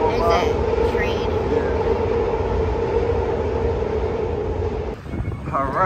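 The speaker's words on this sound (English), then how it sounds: "There's a train." A train rumbles past steadily and fairly loud for several seconds, a continuous low roar with a sustained tonal hum, while a person talks over it; the rumble dips briefly near the end.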